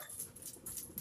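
A dog pants quickly and softly in short rhythmic breaths, faint and close during training practice, with no voices over it.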